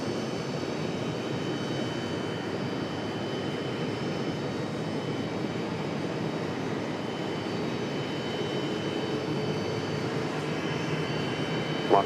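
A Southwest Airlines jet roars steadily while taking off from runway 23 left at Raleigh-Durham International Airport, a loud continuous engine rumble with no talk over it.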